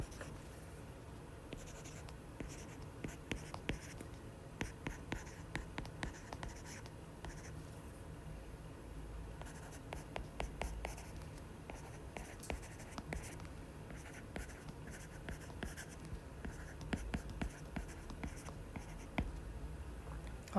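Pencil scratching across paper in quiet, close strokes and ticks, an irregular run of soft scribbles continuing throughout with faint background hiss.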